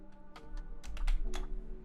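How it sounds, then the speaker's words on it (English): Fingers tap on a computer keyboard at a desk, a close, irregular run of crisp clicks with a few quick bursts, over a low background hum and no talk. "I think you have to enter the keys manually"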